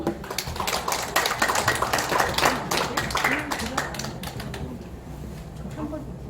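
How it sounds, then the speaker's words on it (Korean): Applause from the audience at a small neighborhood resident council concert as the council chairman is welcomed to the stage, a dense burst of clapping that swells and then thins out over several seconds. "큰 박수 부탁드립니다"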